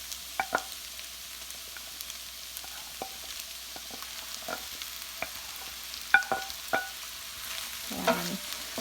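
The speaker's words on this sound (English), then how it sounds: "And stir them and just let them fry a bit." Capsicum and bell peppers sizzling steadily in a pan with a soft hiss, punctuated by scattered clicks and taps of stirring, no voices.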